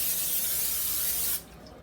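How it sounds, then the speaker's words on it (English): Cooking spray hisses steadily onto a hot griddle for over a second, then cuts off, leaving a faint sizzle from the hot surface. "So now I'm going to spray with cooking spray"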